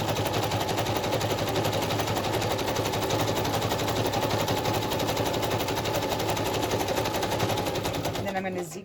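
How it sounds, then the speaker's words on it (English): A sewing machine zigzag-stitching fabric while sewing a handkerchief-inspired garment, running in a steady, loud, fast mechanical chatter close by for nearly the whole stretch, stopping abruptly at the very end. "So what I'm going to do is I'm going to stitch here. Actually, I'm going to zigzag down there."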